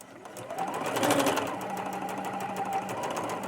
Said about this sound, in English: My sewing machine, it just desperately needs oil.